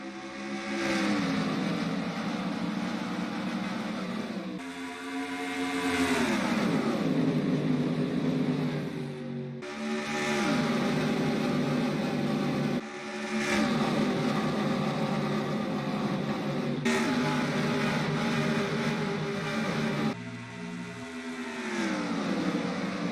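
NASCAR-style stock cars at Indy taking the green flag with Kyle Busch, Jimmie Johnson and Greg Biffle in the field: loud, close engines rise in pitch through repeated upshifts, climbing in a steady cycle of roaring acceleration and brief drops.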